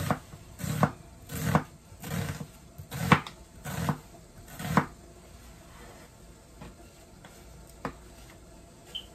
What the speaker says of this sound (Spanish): vamos a partir nuestra cebolla muy bien